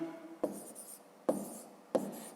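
Pen or pencil writing figures on paper while working a long division sum, three soft scratchy strokes with quiet gaps, close and faint.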